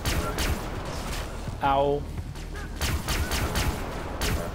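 Gunfire crackles in Far Cry Blood Dragon, a series of sharp, fairly loud shots in quick bursts, with a player's voice speaking over the action.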